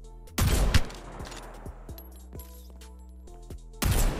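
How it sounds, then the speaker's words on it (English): Artillery bombardment from Apex Legends crashes in loud, heavy blasts at the start and again near the end, with scattered sharp impacts and a lingering tonal hum between them. "Warning. Incoming bombardment."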